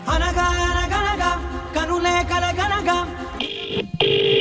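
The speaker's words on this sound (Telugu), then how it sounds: "ఫోన్ వస్తుంది, ఒక్క నిమిషం ఫోన్ వస్తుంది." A melodic ringtone plays loudly over music, then cuts to a sustained electronic phone tone near the end.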